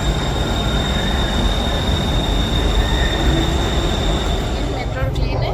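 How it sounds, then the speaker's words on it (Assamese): Bangkok metro train in motion, a steady loud rumble of wheels and carriage with a faint whine running throughout, while a voice speaks over it. "Metro train"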